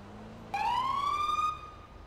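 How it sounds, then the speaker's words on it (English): A video game police siren in FiveM wails in from nowhere, its pitch sweeping up and holding for about a second before cutting off, loud over a low background hum. "I hear the sirens kicking up."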